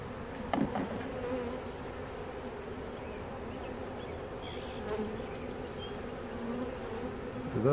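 Honey bees from a swarm trap hum in a continuous, close buzzing drone, with individual bees passing near, and no talking.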